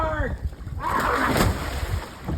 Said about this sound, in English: I'm about to test if I can flip the kayak back over if I flip in the ocean.